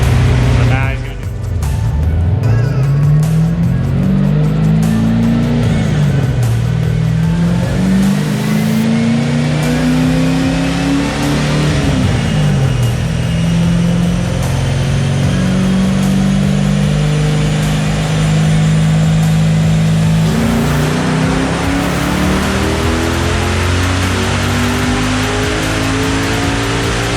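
A BMW with a swapped LS1 V8 engine pulls hard through the gears, loud and close, its engine note climbing and dropping with each shift over about half a minute, with voices talking over it.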